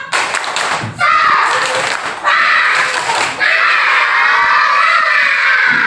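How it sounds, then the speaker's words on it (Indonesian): A crowd of children claps and cheers loudly in several bursts, with shouting mixed into the steady applause. "Tepuk tangan."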